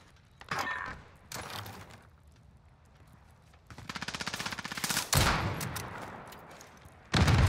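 Gunshots in a first-person shooter video game come in several loud bursts, including a rapid automatic string and sharp single blasts, separated by quieter gaps.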